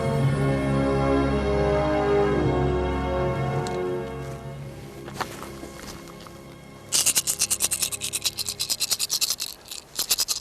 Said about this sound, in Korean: 이게 되게 금속이 많은 돌이다 보니까 이 소리가 부딪히는 소리가 굉장히 좀 예뻐요